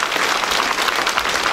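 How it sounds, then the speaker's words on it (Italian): Dense, steady audience applause fills a hall at the Premio Internazionale Nassiriya per la Pace award ceremony in Lentiscosa, many hands clapping continuously at an even, fairly loud level throughout. "Un applauso a voi, ai colleghi dell'Arma dei Carabinieri"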